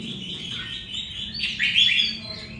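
Caged birds give high, bright chirps and tweets over a low steady background hum, growing slightly louder near the end.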